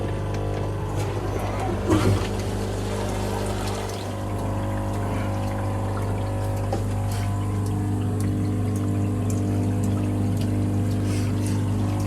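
A pond pump pushes water through a Bakki shower filter on a DIY setup, giving a steady, continuous rush and trickle of pouring water that runs throughout at an even level, with a brief louder splash near the start.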